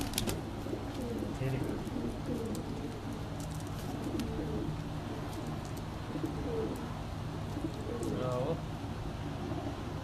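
Pigeons on a rooftop coo repeatedly, soft low calls recurring through the stretch, while someone talks close by and faint ambient noise runs underneath.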